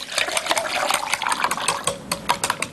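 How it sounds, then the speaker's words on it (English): Water is poured into a beaker of fine powder in a chemistry demonstration, a close, continuous splashing pour with small irregular bursts and gurgles, no talking. "and we'll pour the water in"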